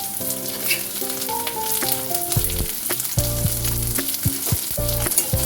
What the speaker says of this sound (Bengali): পেঁয়াজটা ভেজে নিচ্ছি। কিউব করে কেটে রাখা ক্যাপসিকামগুলো এবার দিয়ে দিচ্ছি।